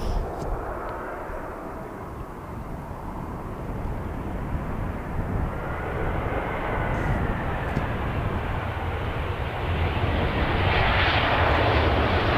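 An airliner at Manchester Airport roars past with a broad jet-engine rumble and whine that swells steadily louder toward the end, heard close and alone without voices.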